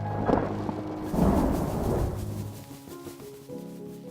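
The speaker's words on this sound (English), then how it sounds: "Thunder can be scary." Thunder rolls in deep, rumbling swells, loud at first and fading to a low grumble, with a soft musical tone rising in the last moments.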